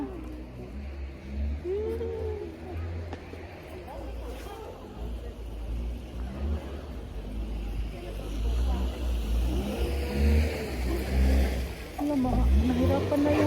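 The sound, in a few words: car engine revving, struggling in snow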